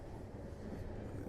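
Passenger train riding on rails, giving a steady low rumble with faint clatter that stays continuous and even throughout, with no voices.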